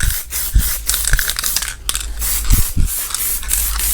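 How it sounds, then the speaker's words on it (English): Short hissing bursts of an aerosol can spraying flat black guide coat on a 1978 Chevy Impala's bodywork, repeated in quick passes, close by and fairly loud, with light clicks and rattles between sprays. "Now we'll spray some guide coat on it,"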